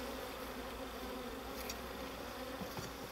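Agitated honeybees buzz densely and continuously around an open Layens hive at an autumn apiary visit, a steady close swarm drone with no talk.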